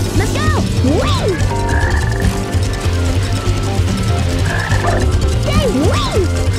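A black frog croaks in the video game Sonic Heroes, repeated sweeping game croaks over a steady music bed, close and loud.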